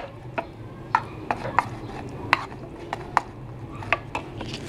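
A spoon or utensil stirs tuna sandwich filling made with corn tuna and pepper in a bowl, giving irregular light clinks and scrapes against the dish, close and fairly quiet over a low background hum.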